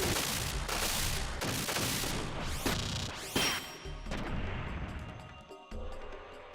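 Gunfire in the mech strategy game Front Mission 3 pounds a turret with a rapid run of heavy, booming shots, then thins into a ringing tail with a few scattered impacts.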